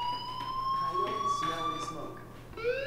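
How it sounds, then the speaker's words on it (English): A fire alarm blares from the building in Life is Strange with a steady, piercing electronic tone held throughout, under faint background noise and brief other sounds. "do you hear that fire alarm?"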